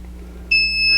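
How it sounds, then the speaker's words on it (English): A longarm quilting machine gives a sustained, high, pure electronic beep during setup, starting abruptly halfway through and holding steady, loud and close, over a quiet low machine hum. "it will start beeping."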